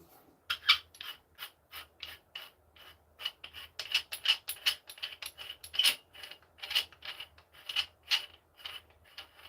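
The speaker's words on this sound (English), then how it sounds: "I'll unscrew it and you can hear it's like a..." Aluminium and plastic gaming chair handle being unscrewed, giving a run of quick, close mechanical ratcheting clicks in uneven bursts throughout, fairly quiet with no talking.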